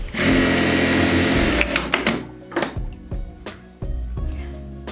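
Sewing machine running fast and close for a short burst while stitching fabric lining side seams for a storage container, then stopping, followed by soft handling clicks and rustles.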